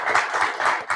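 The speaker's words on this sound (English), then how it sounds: "Let's give you a round of applause." A brief burst of clapping from an audience at a branch general meeting, a few rhythmic claps heard up close and moderately loud.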